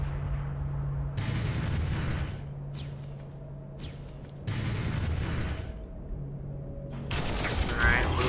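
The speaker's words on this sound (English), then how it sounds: "Artillery." Artillery barrages in the Warhammer 40,000: Armageddon strategy game, heard as several loud bursts of booming fire separated by short quieter gaps, with a low steady mechanical hum running underneath.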